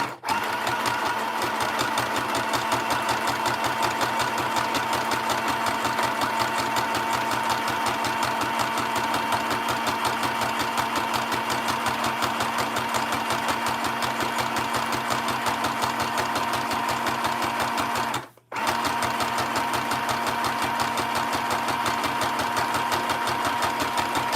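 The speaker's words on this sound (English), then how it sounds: "I'm going to stitch around the outside of this circle." A sewing machine stitches around the outside of a fabric circle in a continuous, close, even whir, with one brief pause near the end.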